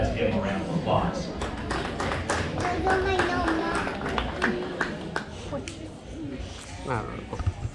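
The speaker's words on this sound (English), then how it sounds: "Let's give him a round of applause." An audience claps for a sheep at a livestock sheep show, giving a round of sharp, scattered handclaps that continue throughout while people talk over them.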